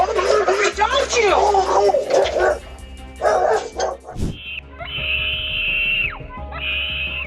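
People talk at first, then a dog lets out a few sharp barks and high, drawn-out yelping whines nearby.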